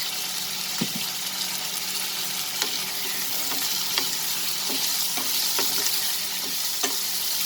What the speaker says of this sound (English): saute it along with the onions